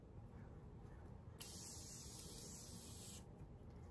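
Morphe setting spray misted in one continuous burst of airy hiss lasting almost two seconds, fairly close, over a faint low background hum.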